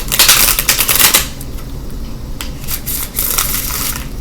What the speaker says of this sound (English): I'm on my last shuffle here.